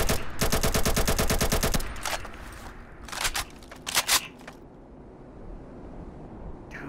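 Modded gun in the Fallout video game firing a fast automatic burst of loud, rapid shots, followed by a few scattered single shots and mechanical clicks, with no talking.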